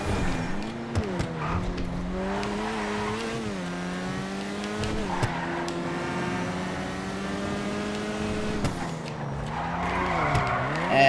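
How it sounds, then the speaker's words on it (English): An Ocelot Locust in GTA Online squeals its tires in a long skid over a steady engine drone, the pitch bending with the slide, loud and close throughout. "You can hear the tires wanting to skid."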